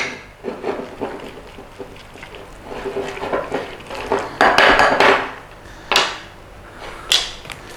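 Beef in a bowl being mixed with a marinade of white pepper and corn flour, giving wet, sticky squelches and irregular clinks and knocks against the bowl, close and fairly loud with no talking.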